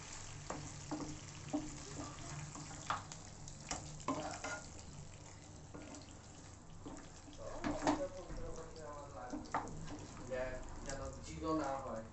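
Food is stirred and sizzles in a pan on a home stove over lowered heat. Soft frying hiss comes with scraping stir strokes and occasional clinks, and some faint background sound is also present.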